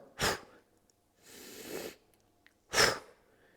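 A person does a core-training breathing drill: two sharp, forceful breaths blown out through the mouth, with a slower, longer inhale through the nose between them, all close and loud with no talking.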